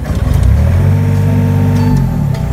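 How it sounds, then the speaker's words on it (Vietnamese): A Komatsu PC30UU mini excavator's diesel engine idles with a loud, steady low rumble and slight throb, close by and running continuously without speech. "Đây mình nổ máy nghe tiếng cho các bạn nghe nhé."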